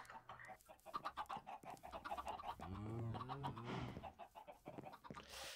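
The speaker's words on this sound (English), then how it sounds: "Oh, look, a chicken." A chicken clucks in the video game Minecraft: soft, quiet clucks and short squawks come in an uneven series, with a drawn-out warbling call near the middle.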